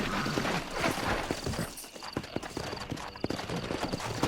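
A horse gallops in the Red Dead Redemption video game, its rapid clip-clop hoofbeats running continuously and fairly loud, with game music and ambience behind them.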